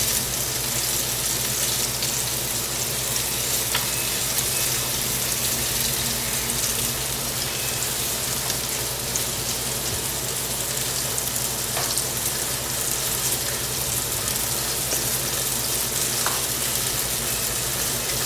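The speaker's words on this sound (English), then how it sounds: "Going to add some shallots. Let those start cooking." Shallots sizzle in a hot pan, a steady dense frying hiss with faint crackles running continuously without talk.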